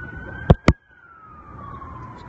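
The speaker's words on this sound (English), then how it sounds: "There is now an increased activity of police sirens going all over the place." A single police siren wails steadily, slowly falling in pitch as it moves away, with two sharp knocks near the start, in San Bernardino during a shooting incident.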